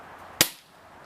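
A Xisico XSP180 .22 caliber break-barrel spring piston air pistol fires a heavy pellet: one sharp, loud crack with a short decay, then quiet.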